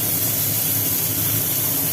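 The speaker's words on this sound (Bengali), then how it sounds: "এবার উচ্ছে ভাজা হচ্ছে" Bitter gourd fries in a pan with a loud, close, unbroken hiss of hot oil, even in level throughout and with no voices.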